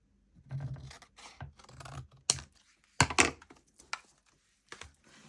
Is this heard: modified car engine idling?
no